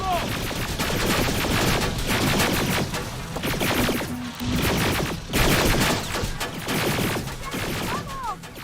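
Rapid gunfire rattles through a firefight in the video game Terminator: Resistance, with dense overlapping bursts filling the scene almost nonstop and voices shouting over the shooting.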